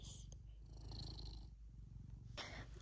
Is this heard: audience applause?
no